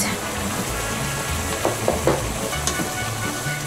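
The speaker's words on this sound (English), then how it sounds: "now I am cooking our meat" Carne asada meat sizzling in a pan as it cooks, a dense continuous crackling hiss with occasional stirring scrapes, close and fairly loud, with no talk.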